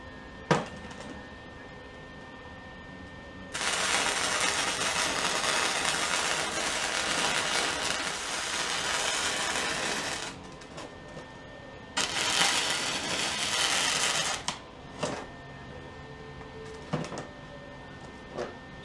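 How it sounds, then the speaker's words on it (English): Welding metal pieces for a holdfast project: two long, steady bursts of broadband crackling hiss, the first about seven seconds and the second shorter, separated by quieter gaps with a few faint clanks and clicks. "now I'm going to finish welding them up."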